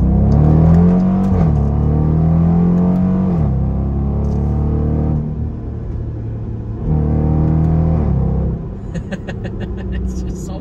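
A Dodge Durango R/T pulling hard through first and second gear, the engine note climbing steadily in pitch, dropping at the shift, then climbing again, heard from inside the cabin with a person talking over it.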